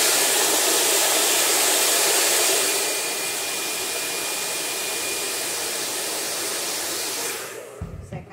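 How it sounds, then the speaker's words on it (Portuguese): A hair dryer blows hot air over an octopus in a home kitchen, a loud, steady, close whoosh that drops slightly partway through and cuts off near the end, with brief talk. "Agora eu vou esquentar de novo com o secador"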